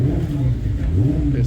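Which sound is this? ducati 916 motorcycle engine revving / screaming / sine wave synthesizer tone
ducati 916 motorcycle engine revving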